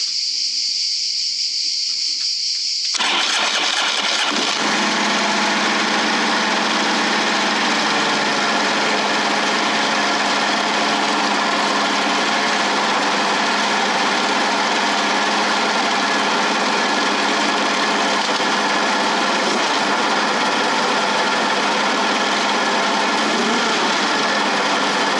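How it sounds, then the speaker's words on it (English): A Harley-Davidson motorcycle engine cranks and fires up, then settles into a loud, steady, rumbling idle that continues for over twenty seconds, close by and alone. "let me start the bike, see how the thing works"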